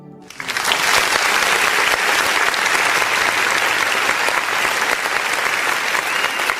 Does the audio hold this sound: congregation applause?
yes